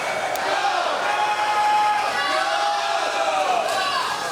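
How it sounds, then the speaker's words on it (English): Teammates cheer at a boys swim meet against Baraboo, a steady, echoing crowd roar of shouts and whoops in an indoor pool setting, continuous throughout without letting up. "their teammates really getting into the cheering for Baraboo"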